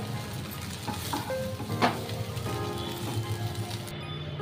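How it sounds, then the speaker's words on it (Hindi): Potatoes and soybean chunks fry in oil in a kadai while being stirred, a steady low sizzle with occasional clinks and scrapes. "इसको थोड़ा उलट पुलट करके हम हल्का सा फ्राई करेंगे"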